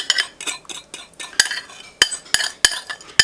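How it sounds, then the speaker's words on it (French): Marinade being stirred into meat for Asian-style garlic steak skewers, making a quick series of wet, clicking mixing sounds with a few sharper knocks, close and fairly loud with no talking. "On mélange bien pour bien tout enrober."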